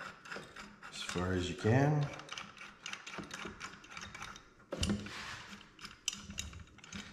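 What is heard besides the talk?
screwing G-Boost clutch tool in by hand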